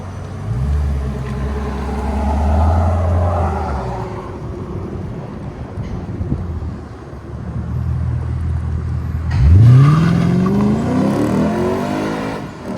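A 2015 Lexus RC F with a 5.0L V8, mid resonator delete and Borla ProXS rear mufflers rumbles at a deep idle, then blips and rises into a loud, sharp rev that swells and settles back, close and unaccompanied by voices.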